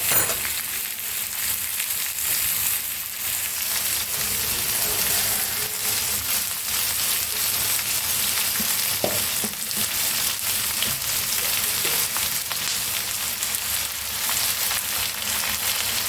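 Sliced onions frying in a pan and being stirred for a potato-and-onion egg bhurji, a steady, close hiss of sizzling oil that continues without a break, with no talking.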